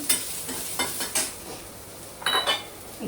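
Onion pieces frying in a pan for a beerakaya and chana dal masala curry: a steady low sizzle broken by several sharp clattering stirs of a utensil against the pan, close and fairly loud.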